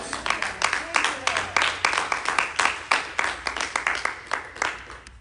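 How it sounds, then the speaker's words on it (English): A church congregation claps in a steady burst of applause, many hands close together, continuing for several seconds with a faint murmur underneath. "Give the Lord a big clap."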